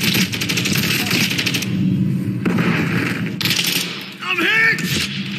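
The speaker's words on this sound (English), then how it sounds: "Taking effective fire." Gunfire in the DMZ video game, dense and continuous, mixed with other game effects and a brief rising electronic tone near the end, heard up close.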